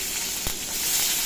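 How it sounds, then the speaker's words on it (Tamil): Chopped onions and curry leaves sizzle steadily in hot oil while being sautéed for thuthuvalai rasam, a close, even frying hiss with one brief louder crackle and no talk. "வெங்காயம் கருவேப்பிலையும் நல்லா வதக்கணும்."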